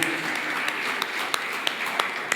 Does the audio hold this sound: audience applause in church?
yes